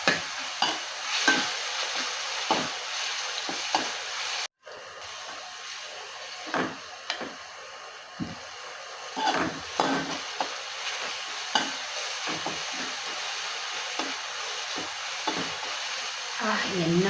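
Spices for rasam sizzle and crackle steadily in hot oil with occasional stirring clatter, a continuous frying hiss with a brief dropout partway through.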